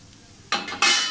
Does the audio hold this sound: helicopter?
no